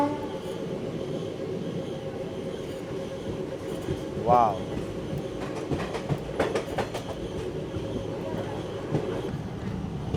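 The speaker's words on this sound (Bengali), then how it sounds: "আমাদের ট্রেন এই মুহূর্তে এসে পৌঁছালো তার প্রথম হল্ট স্টেশন পাকালা জাংশনে।" The 16779 Rameswaram Express from Tirupati rumbles along the tracks with steady clickety-clack and a brief high squeal. A voice exclaims briefly over the noise of the train.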